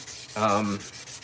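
A single steady abrasive rubbing stroke of sandpaper burnishing a steel blade, about half a second, close and fairly loud, rising out of a quiet background hiss.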